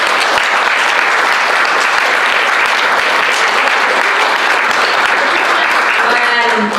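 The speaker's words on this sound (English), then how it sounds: "Can you all give them a round of applause?" An evening panel event's audience breaks into sustained, dense applause that holds steady and loud throughout, with a few voices faintly mixed in near the end.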